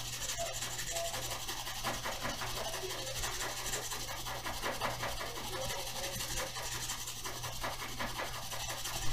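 Steady, continuous rasping of 320-grit sandpaper worked by hand across the top of a custom Firebird body, close and even in rhythm, with a constant low hum beneath.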